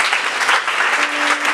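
A church congregation applauding in praise at a French-language sermon, loud dense continuous clapping from many hands filling the room.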